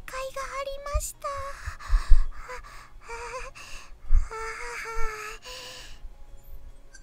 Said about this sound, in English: Don't be breathing like that in my ears